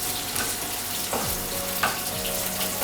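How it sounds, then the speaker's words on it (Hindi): Green chillies sautéing in hot oil with curry leaves: a steady close hiss and sizzle with a few faint clinks from a spoon, and no speech. "let's saute it"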